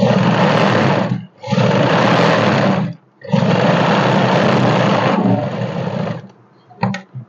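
Sewing machine stitching a seam on a ladies' suit, running in three steady bursts with brief pauses between them, then slowing and stopping with a couple of faint clicks at the end.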